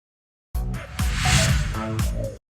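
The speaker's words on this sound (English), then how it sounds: "a whoosh transition sound effect" A whoosh transition sound effect sweeps in abruptly, swells to a broad airy rush with tonal undertones around its middle, and cuts off sharply after about two seconds.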